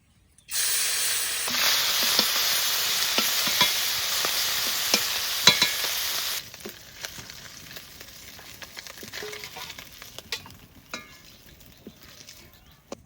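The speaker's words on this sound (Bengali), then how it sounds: "এবার চিংড়ি মাছ কটা ভাজলেই হয়ে যায়।" Prawns dropped into hot mustard oil burst into a loud, close sizzle that fades after several seconds to a quieter crackle with scattered sharp pops and spatters.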